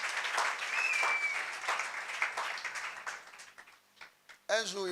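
Church congregation clapping and applauding the Lord during a worship service, dense sustained applause that fades toward the end as a voice speaks.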